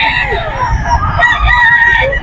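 Bullstag chickens at a gamefowl gathering in Bocaue, Bulacan, crowing loudly and continuously close by, with harsh, honking calls overlapping in a dense barnyard din.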